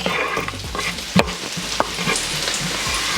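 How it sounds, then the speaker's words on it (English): Onions and garlic fry in oil in a pan with loud, steady sizzling, broken by a few sharp clacks and scrapes of stirring nearby. "I add in a little bit more oil, and then I come and fry my vegetables."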